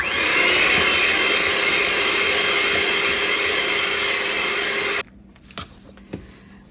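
Electric hand beater whirring steadily as it mixes banana bread batter, a loud continuous drone that cuts off abruptly, leaving faint clinks and quiet kitchen noise.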